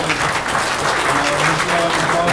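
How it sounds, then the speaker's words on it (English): A small meetup audience claps together for sponsors and speakers, a thick, steady burst of applause at close range with faint voices mixed in beneath. "I'd like to have one more round of applause for Ozpost for sponsoring the venue"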